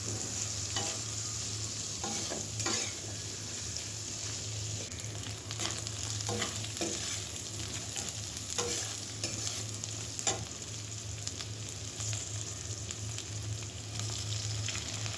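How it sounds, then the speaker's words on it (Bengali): Green chilies and garlic cloves frying in oil with dried lotia fish, a steady low sizzle with repeated scraping stirs of a spatula throughout, close and alone without any talk. "বেশ কিছুটা সময় নিয়ে এগুলো একটু ভাজা ভাজা করব।"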